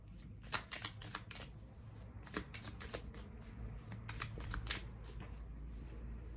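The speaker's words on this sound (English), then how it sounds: "Hang on, let's keep shuffling." Whispering Woods oracle cards shuffled by hand, a steady run of soft papery riffles and flicks close by, with a low background hum underneath.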